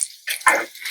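Water splashes briefly into a cooking pot of lamb and rice with green fava beans, a short faucet-like pour heard close and alone.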